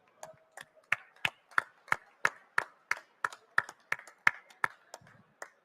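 A sparse scattering of individual claps from a small conference audience for the TDeFi host team at a crypto ecosystem event, about fifteen distinct, fairly close hand claps in an uneven rhythm with no talking.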